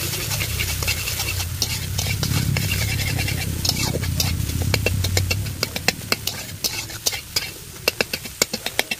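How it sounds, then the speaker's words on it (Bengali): Eggs scramble in hot oil in a kadai for egg chowmein, with a steady broad sizzle for about six seconds, then sharper scraping clicks of a spatula stirring and breaking them up, close and fairly loud. "এবারে কাটিয়ে কাটিয়ে ভুজিয়া করব।"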